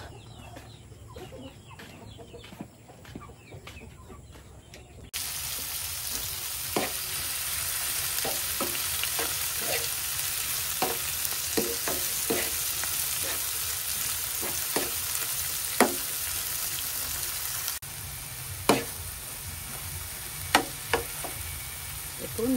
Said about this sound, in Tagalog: Magluto muna ako ng bacon at itlog.